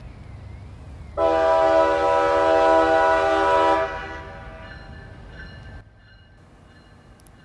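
A CN freight train passing near Tampa, Florida sounds a loud, sustained multi-tone horn for a few seconds over the low rumble of rolling cars, then the horn cuts off and the rumble fades.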